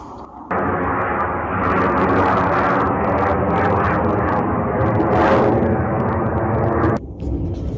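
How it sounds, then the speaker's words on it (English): An airplane flies overhead, a loud, broad roaring rush that starts abruptly, swells toward a peak near the middle, then cuts off near the end, heard alone without talk. "For a second there, I thought that was a Russian spy plane"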